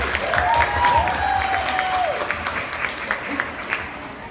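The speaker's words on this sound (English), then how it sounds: "please give Katie a massive round of applause" Warm applause from a YogaFest audience for speaker Katie, steady clapping that fills the room and then gradually thins out, with a voice speaking over it.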